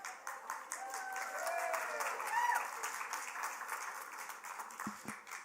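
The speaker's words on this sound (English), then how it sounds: "I did nothing and I got an applause" An audience applauds a speaker at a lecture, dense steady clapping from many hands in a hall, moderately distant and even, fading toward the end.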